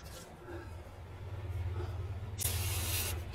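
An aerosol spray can hisses onto outdoor antenna connections, first a steady faint spray and then a loud, bright burst in the last second, all close up.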